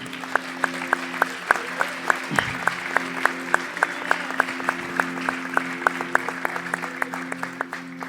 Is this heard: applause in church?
yes